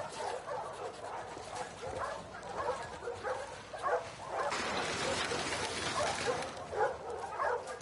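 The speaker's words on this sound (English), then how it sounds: "Hey, you crazy dog." Dog in the video game The Last of Us Part II, giving a series of excited yips, whimpers and short barks at close range, repeated irregularly over steady background noise.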